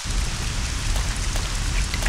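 Steady, dense rain pours without a break in Resident Evil Code Veronica, a loud hiss of falling water filling the scene with no voices.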